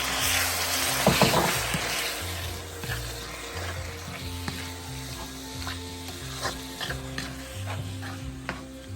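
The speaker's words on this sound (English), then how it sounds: "I'll put in the chicken now." Chicken pieces sizzle in a hot pan for Filipino caldereta stew, a steady close frying hiss with a brief louder burst near the start and occasional stirring scrapes, with no talking.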